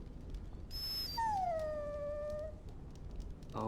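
A dog in the video game Dragon Age Origins lets out a long, drawn whine that rises, then falls and trails off, close and alone over quiet ambient hiss.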